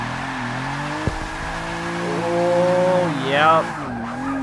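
Video game car sliding sideways in a drift on Falcon and Hoonigan tires, its engine droning steadily while a tire squeal rises and falls near the middle, with someone speaking briefly over it.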